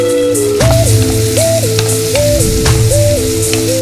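Onions with a little salt fry in a pan for a baingan masala bath, a steady close sizzle running throughout while repeated rising tonal notes, likely from a background melody, cycle over it.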